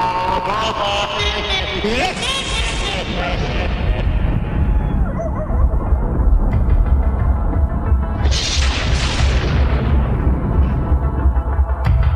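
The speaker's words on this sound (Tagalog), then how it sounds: "Lakas naman ng kulog at kidlat." Loud, heavy thunder from a night storm with lightning rumbles continuously and deeply, with a brighter crack partway through, mixed with dramatic music.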